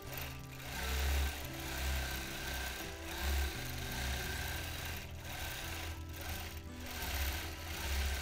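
A longarm quilting machine stitches a freehand quilting design, producing a low, rhythmic mechanical chugging that pulses steadily and close, with no talk over it.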